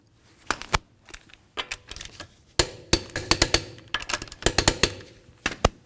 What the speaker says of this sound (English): we'll continue on to torquing the lug nuts in a crisscross manner